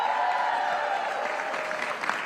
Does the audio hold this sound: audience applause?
yes